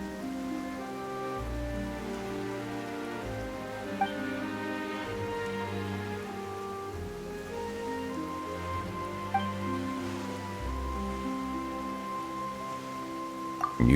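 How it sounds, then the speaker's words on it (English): Steady rainfall in the video game Genshin Impact, an even hiss of drops lasting throughout, layered with a sustained orchestral music bed and no talking. "Why is it raining all of a sudden?"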